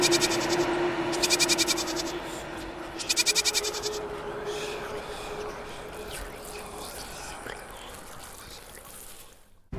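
A goat bleats in two short, wavering bursts early on, set in a rural village and heard over a steady low background hum and faint trickling noise; no one speaks.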